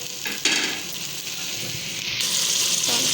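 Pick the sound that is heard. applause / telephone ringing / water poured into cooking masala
water poured into cooking masala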